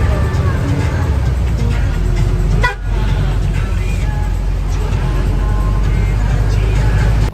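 A bus ride in Nepal: loud, steady engine and road rumble inside the vehicle, with a brief horn toot and faint traffic around.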